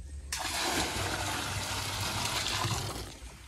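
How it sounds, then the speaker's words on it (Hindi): Water gushes into a tub holding a block of ice, set up for an ice bath challenge; a loud, steady, broadband rush continues for several seconds. "इसमें पानी लोड हो रहा है अभी।"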